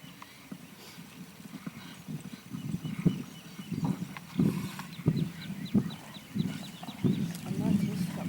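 Gaited horse cantering, hooves clip-clopping in a steady rolling rhythm at moderate distance, with faint background sounds around it.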